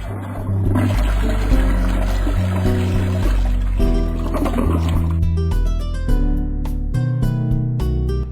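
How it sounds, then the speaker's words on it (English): A toilet flushes in the point-and-click adventure game Ben Jordan: Case 1, a loud rushing gurgle of water that plays over low game music and then drains away as the music carries on. "You flush the toilet and get a strange satisfaction from doing so."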